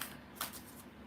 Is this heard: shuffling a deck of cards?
yes